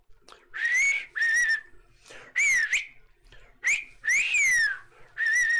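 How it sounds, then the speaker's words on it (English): A person whistles a series of loud, close, shrill notes, each sliding and wavering, in short repeated bursts with brief pauses between them and no talking. "Whistle at him."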